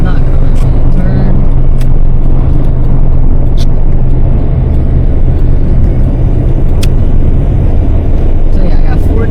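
An old Volkswagen car drives through city traffic in Atlanta with its hood not closing properly, giving a loud, steady engine and road rumble close to the microphone from start to finish, with a few faint sharp clicks over it.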